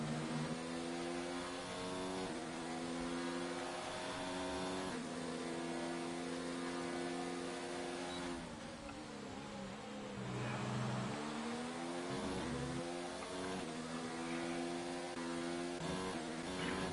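A race car engine on a Brazilian Grand Prix circuit in a PS4 racing game, heard onboard as a steady, loud, sustained drone with shifting pitch as the car accelerates and changes gear, continuous throughout with no talking.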